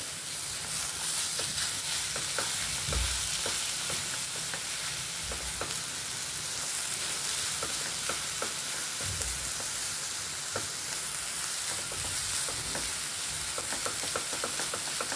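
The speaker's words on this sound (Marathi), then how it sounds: "कमी गॅसवरच आपल्याला हे सारण परतून घ्यायचे." Fresh coconut filling sautéing over a low gas flame, a constant soft sizzle broken by repeated scraping and stirring strokes in the pan, close by and without speech.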